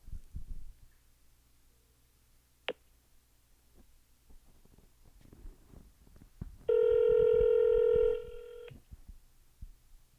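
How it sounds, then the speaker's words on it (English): An electronic phone ring tone sounds once, a steady multi-toned burst lasting about two seconds, over faint background noise and a brief click earlier. "Laura, can you make a phone call right now on Zoom?"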